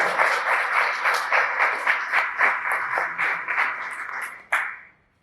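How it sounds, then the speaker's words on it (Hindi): A live audience at a Hindi kavita and shayari recitation claps in steady, loud bursts that swell and fade in waves, ending with a sharp final burst before cutting off into silence. "एक ताली जरूर बजाइए"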